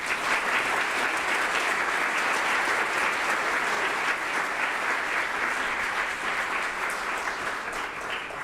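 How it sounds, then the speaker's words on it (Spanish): A concert-lecture audience applauds steadily for the invited maestra Erika Doboshevich, a dense, continuous wash of clapping that holds at an even level for the whole stretch, with no voices over it. "para quien les pido un aplauso"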